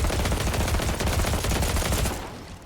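Dense, continuous automatic gunfire from a Fortnite match rattles on for nearly three seconds as players shoot down supply drops, loud and close, tapering off slightly at the end.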